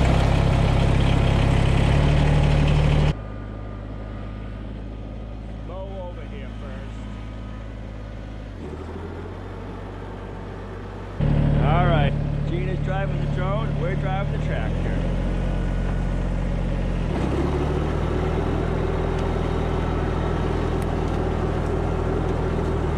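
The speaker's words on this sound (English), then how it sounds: "we're driving the tractor" A Kubota BX2370 compact tractor runs while mowing a pasture, its engine a steady droning hum that shifts in level partway through, with talk heard over it.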